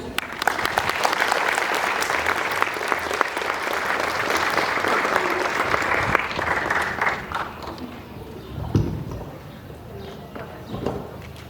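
An audience at an anniversary lecture gives a speaker a strong welcoming round of applause, a loud sustained burst of clapping that gradually thins out and fades, with a few louder claps and a voice emerging at the end.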